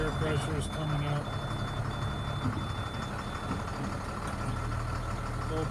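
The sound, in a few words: 2005 Altec AA600L truck engine idling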